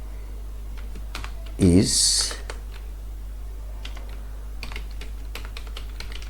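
Keys tapped on a computer keyboard during Bangla web design note writing in Windows, soft scattered clicks spread through the clip under a steady low hum, with a brief louder burst of noise early on.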